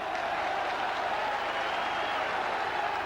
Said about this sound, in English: This crowd really urging the Saints on this afternoon